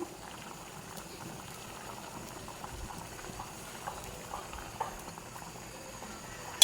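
A fish and vegetable curry with jackfruit seeds, potato and long beans simmers in a pot, a low steady bubbling with small pops as the water cooks down, soft and continuous with no talk.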